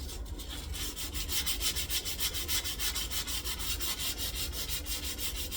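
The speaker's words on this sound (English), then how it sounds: "You don't have to do much sanding on this" Wooden Stratocaster guitar body being hand-sanded, a steady rhythmic rasp of quick back-and-forth strokes, close and fairly quiet, with no voices.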